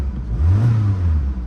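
A car engine gives a quick rev, a low growl that swells and rises in pitch then settles back down, close and fairly loud over about a second.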